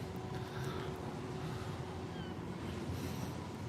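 Sea waves breaking on a beach at low tide, a steady, loud rushing wash mixed with wind buffeting the microphone throughout.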